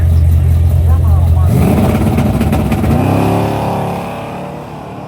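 A 1984 pickup truck launches down a drag strip at a Sick Week racing event, its engine roaring loudly and rising in pitch as it accelerates away, then fading as it pulls off into the distance.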